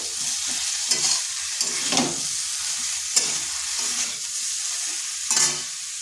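Eggplant pieces tossed into a hot pan for a cauliflower-stem chorchori, sizzling steadily with a few sharper scraping stirs of a spatula, close and fairly loud, with no talking.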